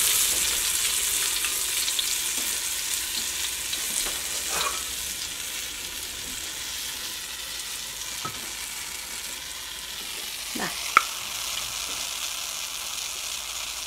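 Chicken pieces for a homemade chicken burger crisp in hot oil, giving a soft, even sizzle throughout with a few brief pops and clicks.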